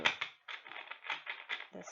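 Tarot cards are shuffled by hand in quick bursts of soft papery riffling and slapping, close and fairly quiet.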